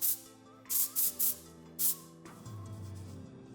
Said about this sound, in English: I'm gonna kind of just spray against the way my hair goes